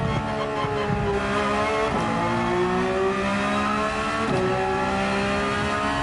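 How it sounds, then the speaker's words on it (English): A race car engine in Gran Turismo 7 screams at high revs in 5th gear, a loud, constant whine that rises steadily and dips briefly at two points, with no voices over it. "got to remember, rev out 5th like crazy"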